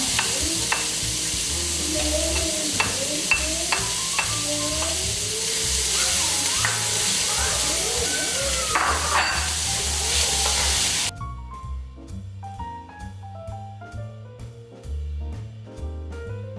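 Garlic and onion sizzle steadily in a pan for shrimp pasta, with stirring scrapes and clatter throughout; about two-thirds of the way in the hiss drops to quieter frying with lighter stirring.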